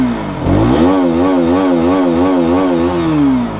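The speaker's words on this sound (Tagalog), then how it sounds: "this is a stock exhaust" A KTM RC 200 motorcycle on its stock exhaust, revved up close by, with a rising buzzy engine note that wavers through quick throttle blips and then eases back down.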